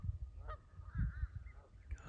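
Geese honk in a loose series of nasal calls, fairly faint and distant outdoors, with low rumbling wind noise beneath.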